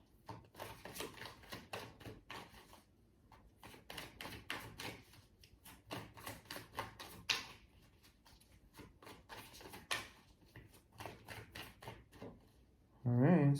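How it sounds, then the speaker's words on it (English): Rapid crisp tarot card riffles repeat in bursts with brief pauses, close and fairly quiet, ending in a louder thump. "Just gonna do a few more shuffles."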